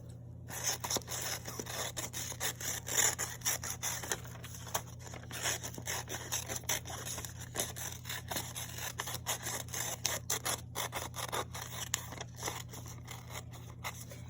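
Paper is cut out with scissors during a pop-art craft project, giving a steady run of small crisp snips and scraping rustles close by, with no talking.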